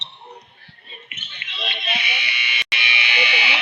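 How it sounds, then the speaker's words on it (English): A loud, sustained electronic buzzer ends a high school basketball game in a gym, blaring continuously for a few seconds over crowd noise and an announcer's voice. "There's the buzzer."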